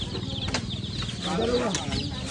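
Chicks peep in a vendor's box at a fiesta in Tondo, repeated high chirps heard close, with people talking nearby over them.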